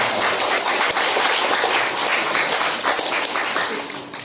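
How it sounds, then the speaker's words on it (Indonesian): Audience applause at a charity gathering with village officials and orphaned children, a dense continuous wash of many hands clapping, loud and sustained, tapering slightly at the end. "Kita berikan aplaus kepada tiga kepala desa."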